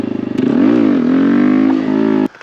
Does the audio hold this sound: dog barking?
no